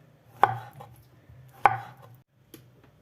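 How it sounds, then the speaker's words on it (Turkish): Bananas are sliced thinly with a knife on a board for a layered cake. Three crisp, close cuts land about a second apart, each with a short clack, and there is no talking. "Şimdi muzlarımı doğruyorum arkadaşlar. Böyle ince ince."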